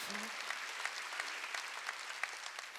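Church congregation clapping hands during a Wednesday worship service, a dense steady wash of many hands, distant and faint throughout.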